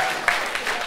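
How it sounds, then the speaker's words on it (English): A brief burst of clapping from a crowd, steady and moderately loud. "can we get one more round of applause for this gentleman?"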